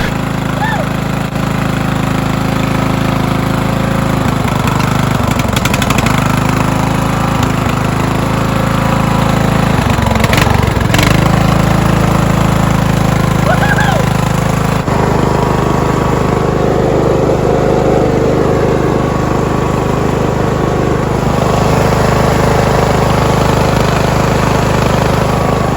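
A racing lawnmower's small engine runs loudly and continuously, a rough droning idle with occasional revving surges and mechanical rattles throughout.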